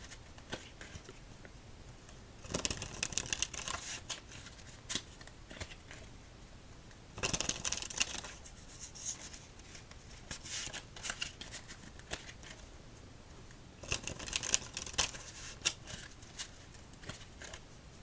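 Playing cards from a dark-mode deck are shuffled for solitaire in three distinct crisp, fluttering bursts, separated by softer handling noise. The sound is close and gentle, with no talking.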